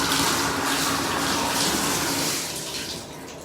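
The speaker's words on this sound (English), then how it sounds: "I'm gonna get my sponge wet" Water runs steadily from a tap onto a Norwex sponge mitt in a bathroom, a loud, close, continuous splashing rush that eases off slightly at the end.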